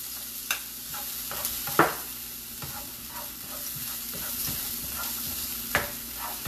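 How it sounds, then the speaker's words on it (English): Onion, garlic and ginger sauteing in a pot, a soft steady sizzle with occasional sharp clinks and scrapes of stirring. "We're just sauteing these, get all the flavors."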